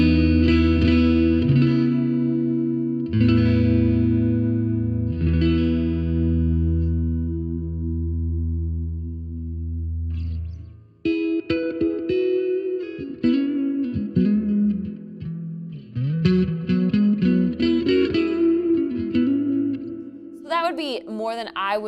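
Electric guitar chords ring out with a wash of reverb, sustained notes swelling and trailing off, followed by a busier picked passage with effects.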